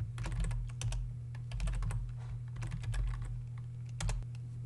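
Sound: typing a command on a computer keyboard

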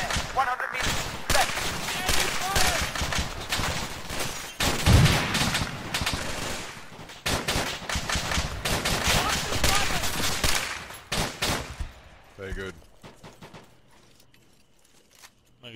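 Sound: gunfire in video game ArmA 3

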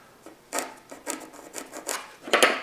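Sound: marking wood for a dining table leaf

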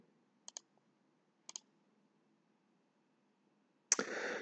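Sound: computer mouse clicking to select transactions

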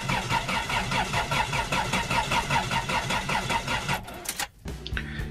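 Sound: car engine cranking but not starting

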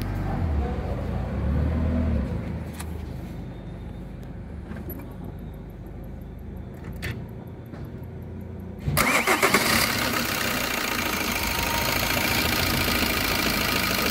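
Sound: Opel Astra engine starting

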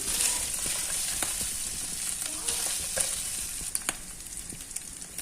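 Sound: beef sautéing in a pan

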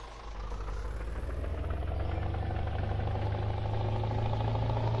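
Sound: Scania truck engine with open pipe exhaust, video game Farming Simulator 19

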